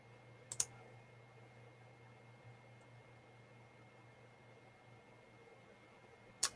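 Two sharp, isolated computer mouse clicks, one near the start and one at the end, against a faint steady hum in a quiet room.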